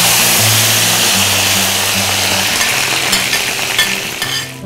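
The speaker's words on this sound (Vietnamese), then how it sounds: "Rồi sau khi dầu nóng rồi thì bắt đầu mình sẽ cho tất cả cái phần tép vô đây mình chiên nó lên." Small whole shrimp frying in hot oil, a loud continuous sizzle up close with faint clinks of a utensil stirring near the end.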